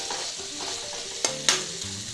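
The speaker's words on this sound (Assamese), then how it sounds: "এনেকৈ চলাই যাওঁ, মছলাবিলাক আৰু আলু এনেকুৱা মিলি গৈছে।" A spoon stirs potatoes and spices frying in a pan for fish curry, soft sizzling under two sharp scraping clinks close by.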